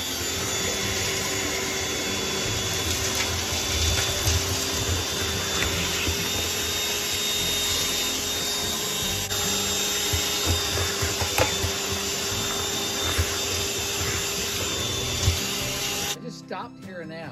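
An ash vacuum hose, used without its connector, roars steadily while cleaning ash out of a Pacific Energy wood stove, a loud continuous suction drone with scraping rattles of debris, cutting off abruptly near the end.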